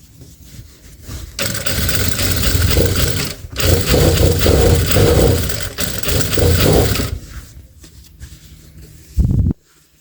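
A sewing machine stitches along the lower leg of tight jeans in loud, rapid bursts with brief pauses between runs, ending in a short final burst after a quieter stretch.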